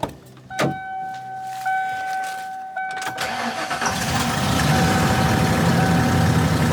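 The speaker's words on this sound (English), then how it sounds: "for everybody on eBay who was wondering if this van starts" A Ford E250 Coachman camper van engine cranks with a few whining starter bursts, then catches and settles into a rumbling idle that grows steadily louder.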